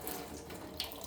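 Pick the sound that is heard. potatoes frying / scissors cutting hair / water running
water running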